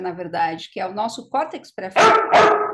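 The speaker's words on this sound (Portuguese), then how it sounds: "Tem um cachorro latindo aí." A dog barks twice, loud and close, near the end, following steady conversational speech from a person talking in Portuguese.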